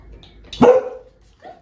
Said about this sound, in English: Zelda, don't bark in my face